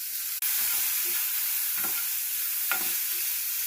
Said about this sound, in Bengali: রসুনটা ভাজা হয়ে গেছে, পেঁয়াজ রসুনটা দিয়ে দিলাম